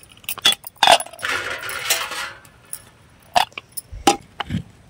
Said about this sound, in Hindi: और अब इसको ढक्कन लगा लूंगी।